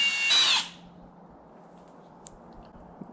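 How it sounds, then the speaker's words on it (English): A power drill whirs loudly for about half a second, then cuts off, leaving a quiet room with a faint click later; drilling inside a 2022 Ford Maverick. "Try and drill."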